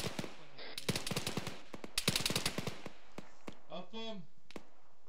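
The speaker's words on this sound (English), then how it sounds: "Azad, machine gunner at the minaret west of you" Video game machine gun fire in rapid close bursts of sharp shots, a short burst then a longer one, followed by scattered single shots with a voice speaking between them.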